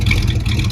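A 1973 Ford Mustang Fastback, revived after decades sitting in a yard, idles steadily right after starting, with a continuous low rumble that holds loud and even throughout.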